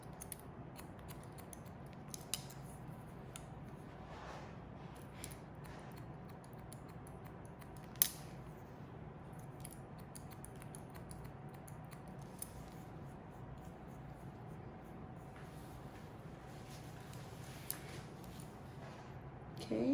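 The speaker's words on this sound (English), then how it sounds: "just take the shears, kind of piece this out a little bit" Hair shears snipping during a short haircut for an older woman, cutting the sides; faint, sparse clicks and snips spaced irregularly over a low steady room hum, with no talking.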